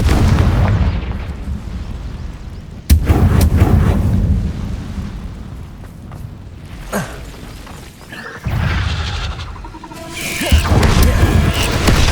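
In the video game Hogwarts Legacy, the Confringo fire spell sets off a series of heavy booming explosions with sharp cracks, crumbling rubble and rumbling tails that rise and fade repeatedly over a dense, loud background.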